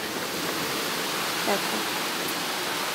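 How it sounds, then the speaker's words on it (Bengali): Heavy rain pours outside on a dark rainy day, a dense, even hiss of steady downpour filling the whole stretch, with one brief spoken word over it. "কত বৃষ্টি হচ্ছে বাইরে, এখনো খুব জোরে বৃষ্টি নেমেছে, খুব জোরে।"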